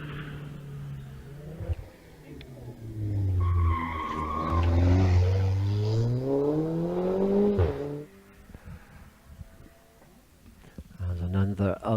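A Mitsubishi Evo 4 RS four-wheel drive car on a hillclimb run at Wiscombe Park, its engine note rising and falling through gear changes as it races past, with a commentator talking over it.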